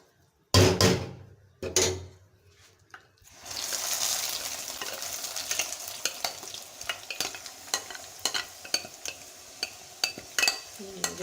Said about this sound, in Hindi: ये अब हमने सूजी इसमें डाल दी। इसको ऐसा ऐसा हिलाते जाएंगे।